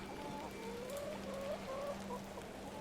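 Soft clucking from a rooster in the video game The Excavation of Hob's Barrow, a few faint, wavering calls over a quiet background.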